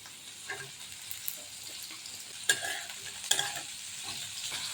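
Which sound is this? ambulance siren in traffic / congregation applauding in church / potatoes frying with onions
potatoes frying with onions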